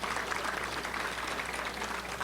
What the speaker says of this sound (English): Let's give him a round of applause for all his social media work.